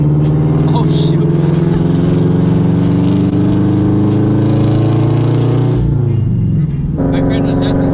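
A modded Subaru FRS with a turbo and loud exhaust drones loudly and steadily from inside the cabin. The pitch holds even, then dips briefly near the end before the engine picks back up.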